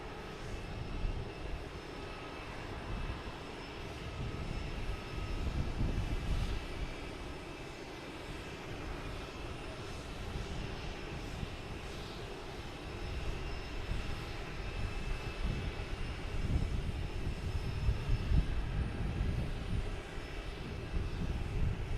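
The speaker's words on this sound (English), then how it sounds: "You got JetBlue heading to Salt Lake City on a fan favorite A220." A JetBlue Airbus A220 takes off from Boston Logan with a sustained, moderately loud engine roar that swells and eases slightly over about twenty seconds.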